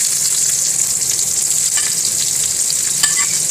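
Onions frying in hot oil in a pan after fish has browned, a steady, close, loud sizzle with stirring scrapes throughout and no talk.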